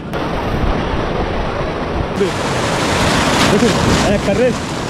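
Ocean surf breaking beside the Marine Drive coastal road in Bangladesh, a steady loud wash of waves filling the scene, with scattered voices and a few faint bird-like calls over the roar.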